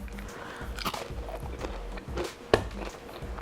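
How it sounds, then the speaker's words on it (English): Crisp crunching of a homemade cheese tortilla chip being bitten and chewed close to the ear, several irregular crunches with one sharp loud bite. "You hear the crunch?"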